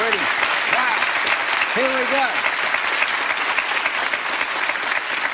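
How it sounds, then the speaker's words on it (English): A studio audience on the Millionaire Hotseat game show applauds steadily and loudly throughout, with a brief voice exclaiming partway through. "Let's give her a round of applause just for all that work already."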